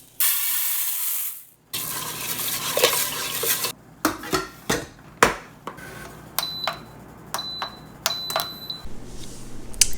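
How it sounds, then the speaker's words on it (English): Rice going into a pot for dinner, with a run of sharp metallic clinks, knocks and scraping of a pot and utensils, a loose rushing pour early on and brief high ringing taps near the end, all close and without talk. "It is 4 p.m. so I'm putting on the rice in preparation for dinner."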